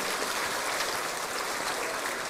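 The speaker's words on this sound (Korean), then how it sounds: "멋진 솔리데오 큰 박수로 다시 축복해 주시기를 바랍니다." A church congregation gives a choir a big round of applause at an anniversary worship service, a dense, continuous hiss of many hands clapping with no gaps, sounding like rushing water.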